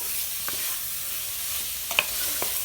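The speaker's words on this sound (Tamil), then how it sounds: "இப்போ இந்த மசாலா தூள்லாம் போட்டு ஒரு ஃபைவ் மினிட்ஸ் வந்து வதக்கிடலாம்" Masala spice powder sautéing in a pan for goat trotter paya gives a soft, steady sizzle with a few light spatula taps and scrapes, close and fairly quiet, no speech.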